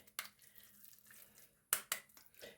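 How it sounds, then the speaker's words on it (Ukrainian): Hands dip and splash into cold water in a home kitchen while pumpkin cutlets are being shaped, giving a few quiet separate splashes and drips with soft handling noise between them. "Руки макаю в холодну воду"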